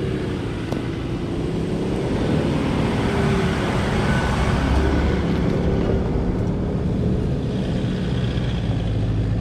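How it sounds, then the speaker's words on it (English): A 4x4 reverses down a forest hill climb in Amamoor State Forest, Queensland, with a steady, rough engine rumble and broadband road noise, close and continuous without pause. "We are on the final hill of the trip. I'm just reversing back."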